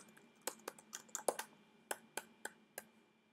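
Keys are struck one at a time on a computer keyboard while a server address is entered, giving sparse, crisp clicks at an uneven pace, close up in a quiet room.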